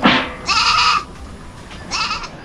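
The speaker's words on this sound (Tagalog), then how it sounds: "Mukhang nagali na yung isa nating kambing dito." A goat bleats twice nearby, each cry loud and wavering, with a short gap between them and a faint farmyard background.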